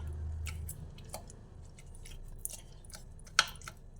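Ripe tomato squeezed by hand to press out the seeds for tomato paratha, giving faint, scattered wet squelches and soft squishes over a low background hum.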